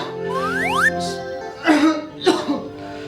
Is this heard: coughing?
yes